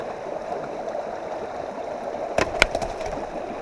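River water flows and trickles steadily at a trout fishing spot, a soft continuous wash, with a few brief splashes or knocks near the end.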